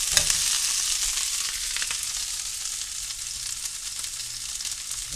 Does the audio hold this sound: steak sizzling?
yes